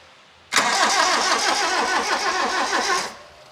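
A 1980s turbocharged Toyota engine, running on a fresh battery, cranks and catches. It gives about two and a half seconds of loud, close, rhythmically pulsing engine noise that starts abruptly and then dies away, with no talk.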